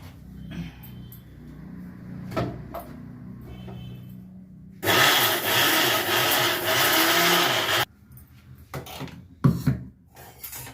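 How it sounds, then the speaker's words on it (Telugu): A kitchen mixer grinder whirs through a batch of amla (Indian gooseberry) spice powder with a little salt. A loud, continuous grinding burst lasts about three seconds, framed by quieter clicks and knocks and no speech. "మిక్సీ పెడతాను మరోసారి"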